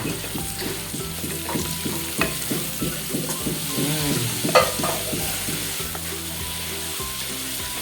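Thankuni leaves fry in a pan in a small home kitchen, a soft, steady sizzle under regular rhythmic scrapes of a spatula stirring them close by.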